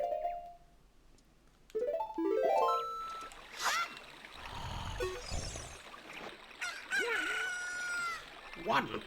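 Rooster crowing in The Legend of Zelda: Ocarina of Time, a rising cock-a-doodle-doo after a newly hatched chick, mixed with game chimes and effects, fairly loud with a short musical jingle.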